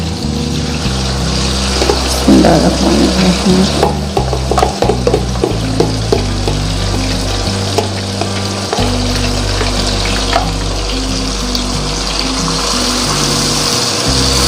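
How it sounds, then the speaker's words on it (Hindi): Marinated chicken sizzles in hot oil in a pan, a loud, steady close-up frying hiss with occasional stirring clatter and no voices. "अब मैरिनेट किया हुआ है चिकन हम इसमें डालेंगे।"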